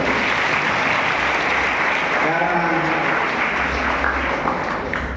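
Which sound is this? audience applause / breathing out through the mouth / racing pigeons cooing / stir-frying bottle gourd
audience applause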